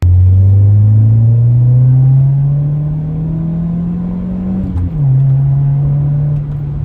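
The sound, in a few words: Honda CR-V engine running after exhaust fix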